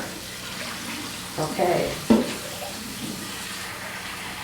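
Warm tap water runs steadily over a cast iron skillet being rinsed without soap, with a few louder splashes and scrubbing bursts midway and a short spoken word.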